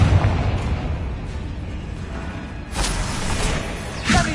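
Expelliarmus disarming spell in Hogwarts Legacy lands as sharp bursting impacts, two loud hits standing out over a steady rumbling game backdrop.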